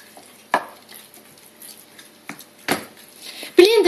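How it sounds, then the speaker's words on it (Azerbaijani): Lentils and pumpkin being stirred and mashed in a pot for lentil pâté, giving a few scraping, squelching strokes at a steady pace with quiet pauses between them. "Basın üzərində qarışdıra-qarışdıra mərcini və içindəki olan balqabağı, ümumiyyətlə qazanın içindəkiləri yavaş-yavaş əzirəm."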